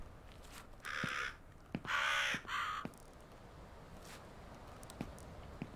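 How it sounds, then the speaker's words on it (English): Crows caw in the horror game Ikai, set among creepy trees: three or four harsh, drawn-out calls close by, spaced out over a quiet background with a few soft footsteps. "These crows are scaring me."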